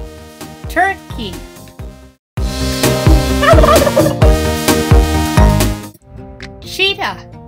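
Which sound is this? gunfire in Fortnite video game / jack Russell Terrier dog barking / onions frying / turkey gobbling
turkey gobbling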